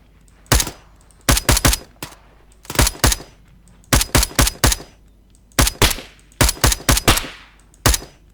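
Gunfire in the military game ArmA 3: sharp, loud shots in quick bursts of two to four, separated by short pauses, with a few single shots in between and no talking.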